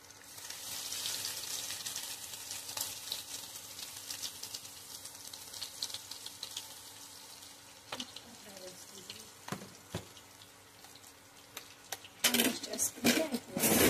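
Onions and chicken frying together in a pan, a steady soft sizzle running throughout, with a few utensil clinks and scrapes near the end and speech-like sounds partly overlapping.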